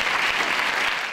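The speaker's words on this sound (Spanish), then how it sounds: "el resto de compañeros aplaudía efusivamente" Enthusiastic applause from a graduation audience of nursing students, a brief, steady wash of many hands clapping at moderate distance with no speech.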